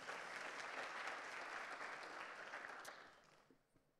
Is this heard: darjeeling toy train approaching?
no